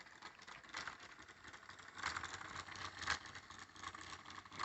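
Car wheels spin on a rolling road with a steady mechanical whirr and faint rattling, moderately quiet and continuous, swelling slightly in the second half.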